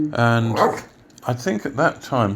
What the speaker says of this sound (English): so that's our dog arguing with us on the side there.